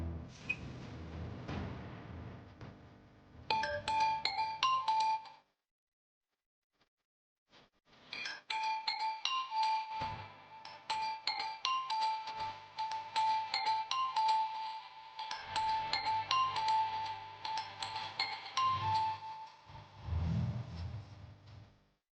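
A phone ringing unanswered, with repeated electronic ring bursts in patterns broken by a short silence and then resuming, heard at a moderate distance with faint background noise and a voice briefly at the end.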